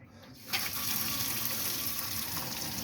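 Hot water running steadily from a tap in an Elddis Crusader Borealis caravan, starting after a brief quiet moment and then gushing continuously with even, close splashing into the sink.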